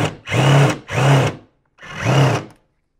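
A power drill fitted with a Phillips number 3 bit, run against a Mortorq socket, whirs in three short, loud bursts close by with brief pauses between them.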